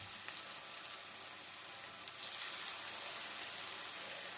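Vegan Jamaican callaloo fritters frying in oil, a steady close sizzle with crackling pops throughout, no voices over it.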